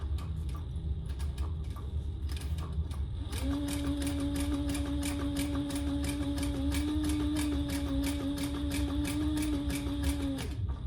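A sewing machine stitches a cork wallet, a rapid steady run of close mechanical ticking that goes on for several seconds with a sustained motor hum underneath.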